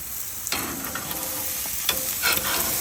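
Steak sizzling loudly on a hot grill as it is flipped, with a steady close hiss of frying and a few brief scrapes and taps.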